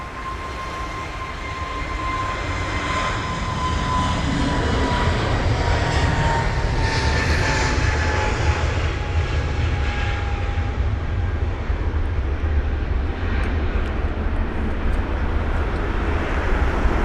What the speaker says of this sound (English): the TAP Air Portugal aircraft on the move